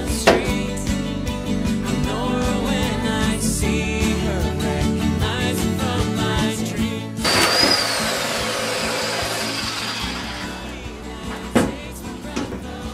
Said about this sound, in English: now I'm going to cut it the rest of the way with a, uh, with a Sawzall